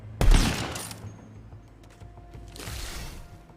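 Gunfire in Tiny Tina's Wonderlands: a loud close burst of rapid shots at the start that fades into a softer rattle, then a second, quieter spray of fire toward the end.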